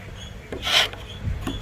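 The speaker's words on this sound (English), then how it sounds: "Your other chisel, the fat one, and then just put it perpendicular and pull it towards yourself." Wide chisel held perpendicular and pulled to scrape a thin layer of wood from a bridle joint, a single short close rasping stroke.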